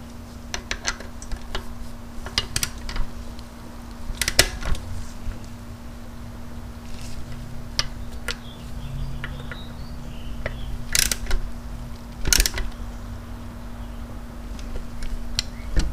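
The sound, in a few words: ratchet tightening oil cooler bolts on a motorcycle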